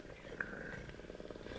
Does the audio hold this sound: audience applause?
no